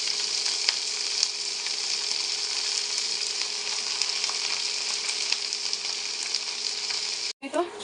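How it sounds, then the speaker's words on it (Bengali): Onions sizzle in a pan of hot oil for mustard greens, a steady bright crackle and hiss with occasional pops, close and continuous until a brief break at the end. "পেঁয়াজগুলো ভাজা হয়ে গেছে, এখন আমি শাকগুলো দিয়ে দিব।"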